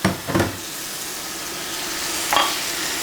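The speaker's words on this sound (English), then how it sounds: "And you just saute that up." Pad thai ingredients sauté in a pan with a soft, steady sizzle, punctuated by a few brief stirring scrapes near the start and again later; no one speaks.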